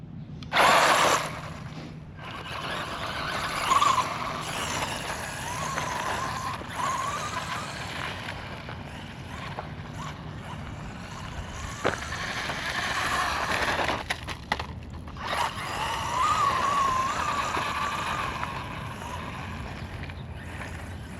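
An RTR FMS FSC18 Ford Bronco RC truck drives with a loud whining drivetrain that rises and falls as it moves, heard close with no talk.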